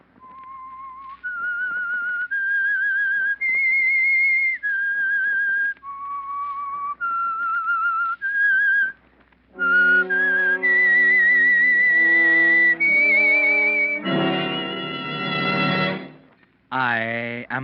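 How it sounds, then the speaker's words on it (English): A lone melodic whistle plays the radio show theme, a slow sequence of clear sustained notes rising and falling, followed by a brighter orchestral passage. "That whistle is your signal for the Signal Oil Program"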